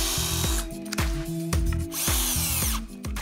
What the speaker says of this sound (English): couple of screws or pre-drill into there